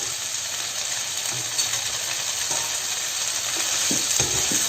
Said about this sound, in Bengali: পাস্তাটা দিয়ে আমি এগুলোর সাথে মিশিয়ে নেব।